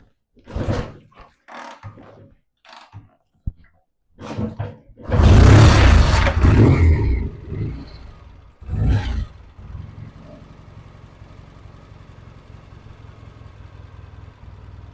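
A Triumph T140V motorcycle engine cranks in several short bursts, then fires into a loud, close revving roar with a second blip before settling to a lower, high idle.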